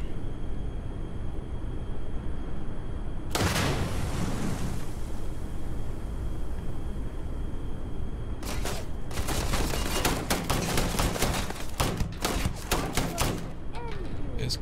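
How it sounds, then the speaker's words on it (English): Gunfire in the space RPG Starfield: a brief burst of shots early, then a long run of rapid, loud shots in clustered bursts over steady background noise. "Hannibal, you gotta get better at shooting."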